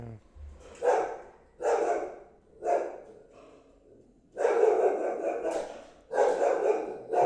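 A dog barks at a newly delivered package indoors, several loud separate barks in bursts with short pauses, then a longer run of barking near the end.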